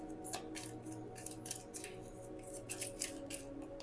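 Tarot cards are pulled from a deck, producing a quick run of crisp, close snapping and sliding clicks with a few sharper flicks near the end.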